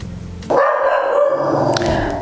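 A tiny dog lets out a loud, close, sustained yappy bark or whine that holds for almost two seconds, with no speech over it.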